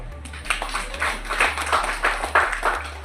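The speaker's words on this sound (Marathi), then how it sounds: "तुम्हीच टाळ्या वाजवा" An audience applauds at a World Human Rights Day felicitation ceremony for journalists, social workers and doctors. The clapping is steady and moderately close, with a dense patter of hand claps and a low hum underneath.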